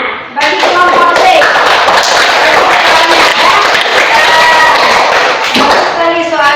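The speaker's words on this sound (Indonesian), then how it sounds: "Tepuk tangan bagi kelompok C." A classroom group claps for group C during a teaching performance assessment, with dense, loud, sustained applause from many hands running nearly the full length, mixed with voices and cheering.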